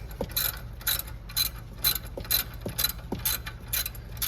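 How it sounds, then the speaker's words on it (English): Actuator bolts being tightened back up with a ratchet wrench: a series of quick, close metallic ratcheting clicks in bursts at a steady rhythm, with no voices. "what you want to do is go ahead and tighten these back up"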